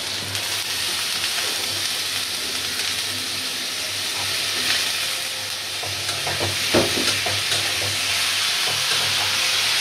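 Potatoes and flat beans frying in hot oil for a bhaji with garlic and chilies, a steady loud sizzle with scattered crackles and stirring scrapes throughout.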